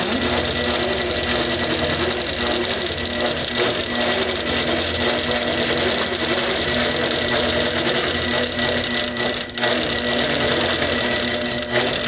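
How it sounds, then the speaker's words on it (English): An APQS Millennium longarm quilting machine stitches a free-motion sampler quilt with a steady, rapid mechanical whirring hum that runs loud and unbroken throughout. "If it looks like I'm stitching close to my fingers, I am."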